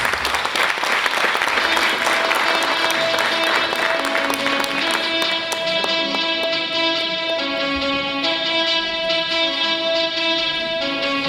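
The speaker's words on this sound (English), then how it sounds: "Can we give them a round of applause?" An audience at a school awards ceremony applauds the school choir, with dense, sustained clapping that thins out while tonal music rises through the second half.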